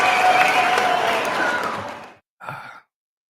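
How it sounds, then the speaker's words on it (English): A played applause sound effect gives a dense wash of clapping that fades out after about two seconds, then a brief second burst follows. "I'm playing out the applause."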